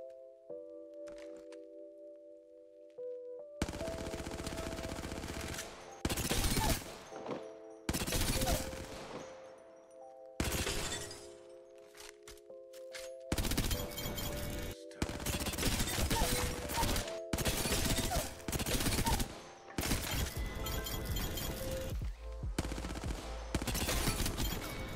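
Hemlock rifle firing full auto in the video game Apex Legends, rapid loud bursts of gunfire in several separate strings with a tonal hum and quiet gaps between them.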